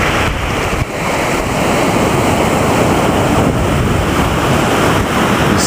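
Ocean surf rolls steadily onto a sandy hotel beach at Puerto Vallarta, a continuous loud wash of breaking waves mixed with wind buffeting the microphone, and no voices.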